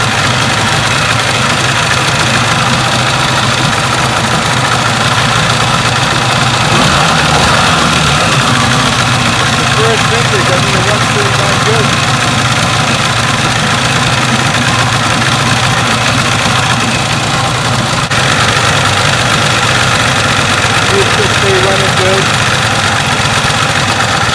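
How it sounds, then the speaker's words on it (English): A 1962 Johnson 75 hp outboard engine runs rough with a loud, steady, throbbing drone for the whole stretch, and a voice is heard talking over it. "It's a little rough, but hey, it's an old engine."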